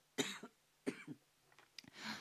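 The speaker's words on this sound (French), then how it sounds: "je vais tousser." Three or four quick coughs in succession, close and fairly sharp, with a short throat-clearing rasp at the end.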